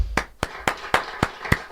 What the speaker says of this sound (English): I know, we get a clap